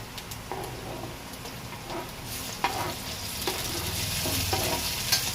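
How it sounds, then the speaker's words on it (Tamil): Tomatoes dropped into a pan of sautéed onions frying for egg noodles, giving a steady sizzle with repeated stirring scrapes and clinks throughout, close and moderately loud, with no talking. "நான் தக்காளி இப்போ போட போகிறேன் ஃப்ரெண்ட்ஸ்."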